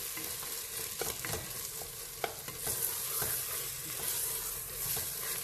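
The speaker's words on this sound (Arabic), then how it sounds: "كيما تشوفوا نحرك حصيله بالطول باش ما يتشدليش" Tunisian mermez with lamb simmers in a pot while being stirred, a quiet continuous sizzle punctuated by several light utensil scrapes and taps.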